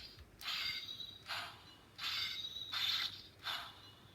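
A Mighty Morphin Power Rangers power morpher toy working its mechanism: four separate bursts of grinding, ratcheting whir, each about half a second long, spaced roughly a second apart, close and fairly quiet with no talking.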